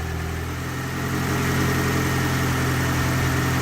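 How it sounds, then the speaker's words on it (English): A classic car's engine idles steadily after a clean start, a low even rumble that holds close and constant throughout. "Idling nicely."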